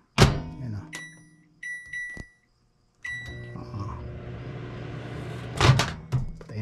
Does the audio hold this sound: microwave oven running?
yes